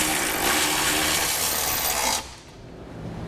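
A power tool drives trailer hitch fasteners on a 2016 Acura MDX during a Curt receiver install, a loud continuous whir of about two seconds that cuts off abruptly, leaving quieter background.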